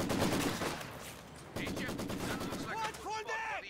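Machine gun fire in Company of Heroes 2, dense rapid bursts with distant battlefield explosions and shouted unit voice lines mixed in, loud and continuous.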